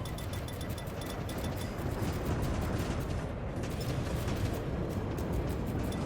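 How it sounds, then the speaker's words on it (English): Continuous dense rumbling explosions and gunfire fill a space battle in the video game Infinity: Battlescape, loud and unbroken, with no talk over them. "Can't see through all of the explosions."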